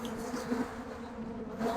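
Agitated honeybees buzz around an opened beehive during winterizing, a dense steady droning swarm close by with small swells in intensity and no talking.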